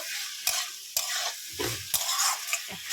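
Cabbage is sautéed with spices in a pan while being stirred: a steady close sizzle broken by about five scraping stirring strokes.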